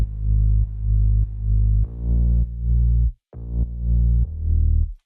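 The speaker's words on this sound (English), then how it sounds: "that's actually an operator on this guitar bass preset in Ableton with a bunch of distortion and some OTT and some transient shaping" A heavily distorted synth bass plays an Ableton Operator guitar bass preset with a boosted sub. It pulses in repeated sustained notes with brief gaps and pitch shifts, thick and loud on its own.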